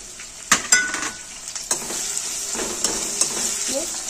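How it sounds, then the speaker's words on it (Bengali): Chopped onion hits a pan of fried ginger-garlic paste for egg korma, giving a steady close sizzle broken by sharp clacks of a spoon stirring against the pan. "আর একটা যে পেঁয়াজ কুচিয়ে রেখেছিলাম, এই পেঁয়াজটা দিয়ে দেবো।"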